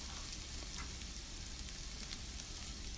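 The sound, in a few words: onions frying in a pan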